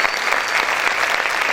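A church congregation claps loudly and steadily in dense, continuous applause filling the whole moment, with no voices standing out.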